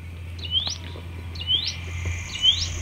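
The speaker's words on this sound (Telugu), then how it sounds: "చుట్టూరు ఆ పక్షుల సౌండ్స్ కానీ అవన్నీ చాలా బాగున్నాయి." Birds call around a hilltop viewpoint in the Odisha valleys, three bright rising chirps spaced about a second apart over a steady low hum, each clear and close.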